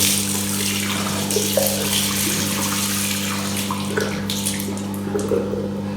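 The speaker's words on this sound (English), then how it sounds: "I'm going to wash my face" A tap runs steadily into a sink while someone washes their face, a continuous close splashing rush of water with occasional small splashes and a low hum underneath.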